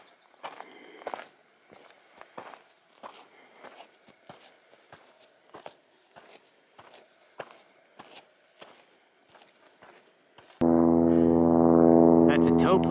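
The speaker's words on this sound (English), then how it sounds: "That's a tow plane towing a glider." A tow plane pulling a glider overhead in the desert along the Pacific Crest Trail: steady footsteps crunch along the trail, then a loud, droning propeller engine suddenly rises and holds near the end.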